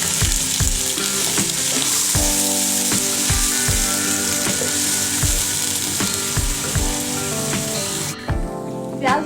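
Chopped onions fry in a pan for mutton kaleji masala. A loud continuous sizzle runs throughout, punctuated by regular clanking stirs of a utensil against the pan, and it quietens abruptly near the end.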